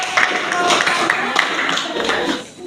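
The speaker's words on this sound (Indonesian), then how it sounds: "tepuk tangan untuk" Classroom applause for a student group, scattered hand claps from pupils under a teacher's speaking voice, fading toward the end.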